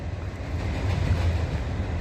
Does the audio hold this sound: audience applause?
no